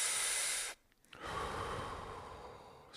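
Deep Wim Hof style breathing sounds close and loud, with a long forceful breath, a short pause, then another long breath that fades slowly.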